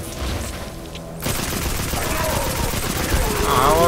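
Video game combat in Destiny 2 with a grenade blast and rapid gunfire, a dense continuous barrage of shots and booms that builds after a short quieter lead-in, loud and close throughout.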